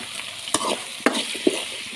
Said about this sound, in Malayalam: ഇത് നല്ലവണ്ണം ഒന്ന് ഇളക്കി കൊടുക്കണം കേട്ടോ